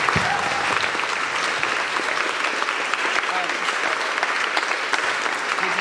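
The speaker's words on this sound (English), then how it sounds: "So if we just give them a round of applause very quickly." An audience at a young fashion designers' runway competition applauds steadily, the dense clapping lasting throughout, with a voice faintly audible beneath it.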